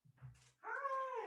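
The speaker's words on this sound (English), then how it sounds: "my puppy's awake" A puppy whimpers close by, a low grumble rising into a thin sustained whine, faint and alone.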